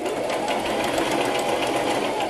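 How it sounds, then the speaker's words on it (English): A sewing machine stitches ribbon trim onto a tutu, a fast steady mechanical whir and rapid needle chatter running loud and close without pause. "now I'm gonna go ahead and sew"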